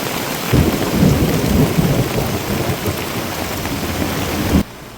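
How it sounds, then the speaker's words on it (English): Steady rain pours down with a deep rolling rumble of thunder underneath at a resort in Waller, Texas, loud and continuous, then cuts off abruptly near the end. "It's raining, guys."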